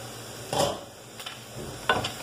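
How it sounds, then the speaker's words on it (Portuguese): Bacon nearly done frying in a pan gives a soft, close sizzle, broken by a few brief clinks and stirring scrapes from a utensil, with no voices. "o bacon já está ali, quase fritinho"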